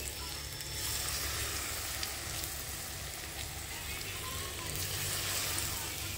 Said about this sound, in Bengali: চলো একটা একটা করে বলগুলো এবার ছেড়ে দিচ্ছি